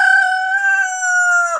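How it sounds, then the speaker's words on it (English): A white rooster crows once, loud and close, one long clear cock-a-doodle-doo that holds steady and then drops off sharply at the end. "there's that loudest rooster right there, the white one"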